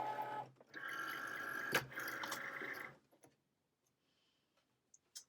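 A Cricut cutting machine pulls in a vinyl-covered mat, a steady mechanical whir and rattle lasting about three seconds, followed by near silence with a few faint clicks.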